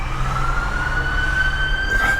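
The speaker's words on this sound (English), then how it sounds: "Sorry for the sirens, we live right by an ambulance station." A steady wailing ambulance siren from a nearby ambulance station, its tone sustained and rising slightly, heard at moderate distance over low traffic rumble.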